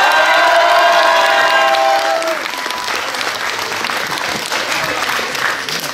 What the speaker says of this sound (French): J'aimerais aussi qu'on applaudisse très fort l'équipe du CIAQ,